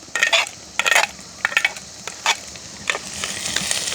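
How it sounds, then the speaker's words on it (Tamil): Fenugreek, garlic, curry leaves and fennel seeds frying in a pan for a country chicken curry, stirred with a few distinct scraping clinks over a soft, steady sizzle, close by with no talk. "நல்ல வடிவாக கிண்டி விடுவோம்."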